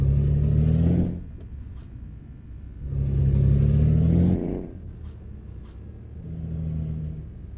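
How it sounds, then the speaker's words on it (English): A Freightliner truck engine in Euro Truck Simulator 2 revs up three times, each surge climbing in pitch before cutting back to a low, rumbling idle. "Wow, that's a different engine"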